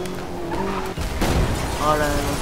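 A car in Need for Speed Most Wanted (2012) braking hard, loud tire skidding and squealing over a steady engine roar, with a voice talking over the game sound.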